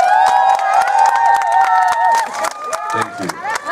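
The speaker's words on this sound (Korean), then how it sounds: "박수 부탁드립니다" An audience at an open talk with actor-turned-film-director Jang Keun-suk at the Bifan film festival lets out high-pitched shrieks and cheers over scattered clapping, loud and close throughout.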